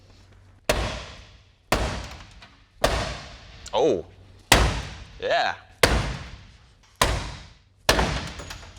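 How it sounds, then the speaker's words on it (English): Seven heavy, evenly spaced hammer blows thud against a board, each ringing briefly, with short spoken exclamations between some strikes. "if it can hold up to a few hits with a hammer"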